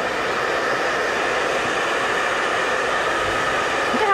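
A hair dryer blows steadily while drying a Yorkie-Poo puppy at a groom, a constant loud whooshing rush with no pauses or voices.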